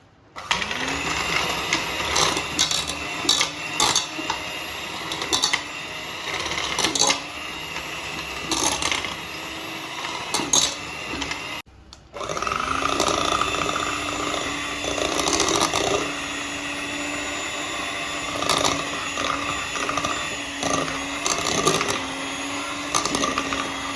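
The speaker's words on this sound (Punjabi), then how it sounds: "ਹੁਣ ਇਹਨੂੰ ਆਪਾਂ ਮਸ਼ੀਨ ਦੇ ਨਾਲ ਫੈਂਟਾਂਗੇ ਚੰਗੀ ਤਰ੍ਹਾਂ" Electric hand mixer whipping cream for homemade chocolate ice cream, a steady loud whirring motor hum with a short pause midway before it runs again.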